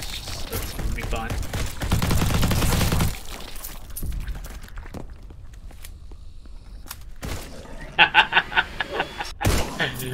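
Turret gunfire against zombies in a first-person tower defense game, heard as bursts of clattering shots with a dense loud stretch early on and a quick rapid volley near the end, under a busy game soundscape with some talk.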